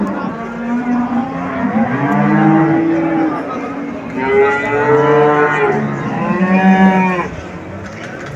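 Cattle lowing at a Turkish livestock market: several long, loud moos follow one another close by, each drawn out over a couple of seconds, with market background noise underneath.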